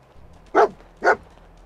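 Dogmeat, the companion dog in Fallout 4, lets out two sharp, clear barks about half a second apart over quiet game ambience.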